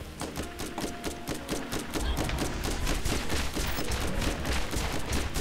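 Rapid gunfire from the Borderlands video game, bursts of repeated shots crackling steadily throughout with no pauses, loud and busy against a constant low game-sound bed.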